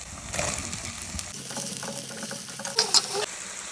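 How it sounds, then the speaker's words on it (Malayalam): Sliced onion drops into a pan of ginger, garlic and green chili paste frying in oil, setting off a steady sizzle with stirring clatter and a brief louder scrape near the end. "നമുക്കിനി ഇതിലേക്ക് സവാള ചേർത്ത് കൊടുക്കാം"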